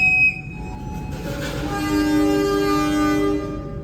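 The Kaligung passenger train pulls out of Semarang Poncol station in Indonesia, a sustained horn tone ringing over the loud, steady rumble of the moving train.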